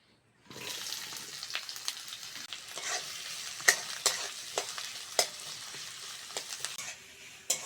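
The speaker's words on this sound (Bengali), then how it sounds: "এবার পেঁয়াজ কুচোনাটা তেলের মধ্যে দিয়ে দেবো" Chopped onion frying in white oil in a pan: a steady close sizzle with sharp clicks and scrapes from stirring at irregular intervals, and no talk.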